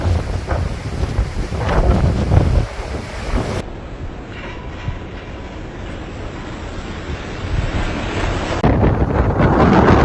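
Strong storm winds in the UK roar and buffet the microphone in loud, heavy gusts. The sound cuts abruptly to a calmer stretch, then the rush builds again.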